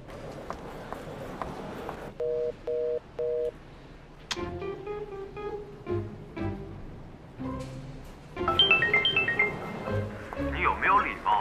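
A telephone busy tone after a call is hung up: three short repeated beeps, followed by clicks and other room sounds, with some speech and music in the background.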